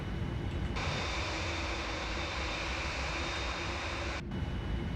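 Air Canada Boeing 787-9 jet engines in the Prepar3D flight simulator, a steady loud roar as power is added for taxiing, continuous with no voice over it.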